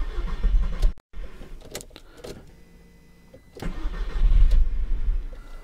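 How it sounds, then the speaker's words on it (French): Cold Audi TT MK1 engine with a starting fault, cranking hard in loud bursts with a pause between attempts, the starter grinding without catching, close to the microphone. "Et à froid elle a un petit peu du mal à démarrer"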